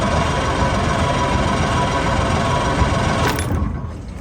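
A Mercury 90 two-stroke outboard motor cranks over without starting, a loud continuous mechanical whirring churn that stops abruptly near the end, with no talk.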